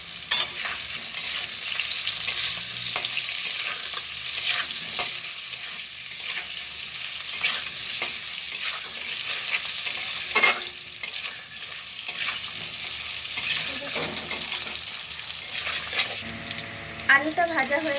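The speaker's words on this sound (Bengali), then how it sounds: "আলুর মধ্যে একটু লঙ্কার গুঁড়ি দেব, দিয়ে ভেজে নেব।" Potatoes with chili powder fry in a wok, giving a steady loud sizzle with scraping stirs and occasional clinks of a utensil throughout.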